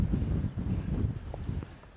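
Wind gusts over the Čičarija mountain ridge in Slovenia, a steady low roaring rumble buffeting the microphone for two seconds, easing slightly toward the end.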